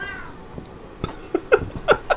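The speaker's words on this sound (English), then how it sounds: "The cat got very angry when I made fun of green fruit." An angry cat meows in short, sharp bursts, several harsh yowls in quick succession following a brief murmur of voices, close and fairly loud.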